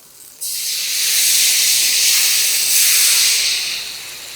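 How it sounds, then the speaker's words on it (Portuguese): White wine hits a hot paella pan to deglaze it, bursting into a sudden loud hiss of steam that holds strongly for about three seconds before tapering off. "a gente vai deglaçar com um pouquinho de vinho branco"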